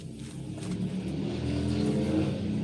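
A motorcycle engine revs and builds steadily as it passes, a continuous droning roar that swells over a couple of seconds, moderately loud, with no talking.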